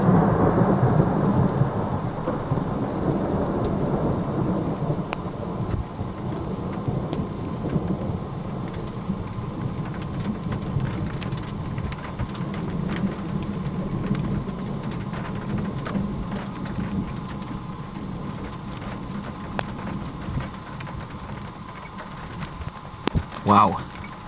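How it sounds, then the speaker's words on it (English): Heavy rain pours under a storm anvil during an overnight thunderstorm in Argentina, a dense steady roar close around, with thunder rumbling at the start and faint voices now and then. "the rain from this anvil above me is getting stronger now"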